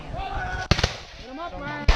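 Muskets fire during a battle reenactment at Fort Ticonderoga, with two sharp, loud reports about a second apart, and voices heard between the shots.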